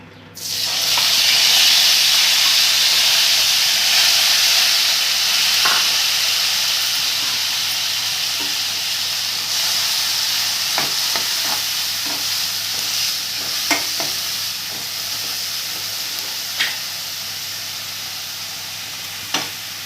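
Ginger paste and green chilies hit hot oil in a pan for a Telangana-style egg curry, bursting into a loud, steady sizzle and hiss with occasional light stirring clicks throughout.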